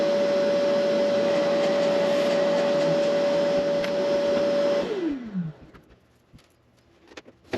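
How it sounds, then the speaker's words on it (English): A bandsaw cuts a decorative guitar backstripe piece: a loud, steady motor whine with a constant tone runs for several seconds, then winds down as the blade slows, leaving a few faint clicks. "I'm going to go nip that on the bandsaw."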